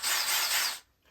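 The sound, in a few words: drilling a hole in wood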